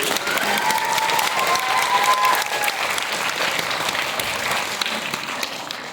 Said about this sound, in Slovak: Poprosím ešte jeden veľký potlesk pre všetkých súťažiacich.